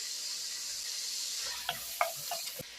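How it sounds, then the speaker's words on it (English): Peppers, onions and mushrooms sizzle softly in a pan, a steady low hiss with a few sharp stirring clicks near the end, faint and close with no talk. "Let's go ahead and dump in our peppers and our onions and our mushrooms."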